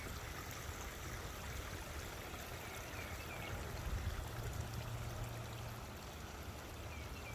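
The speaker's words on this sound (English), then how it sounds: "The water is flowing quite nicely through here." Spring runoff water flows steadily through a rocky brook, a continuous broad rushing and trickling wash that stays even and close throughout with no voices.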